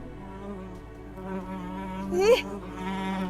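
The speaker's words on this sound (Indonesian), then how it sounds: "jam segini kok ada lalat?" Flies buzz near a freshly dug grave in a village setting, a continuous whining drone with a sharp rising swoop as one passes close, no talking.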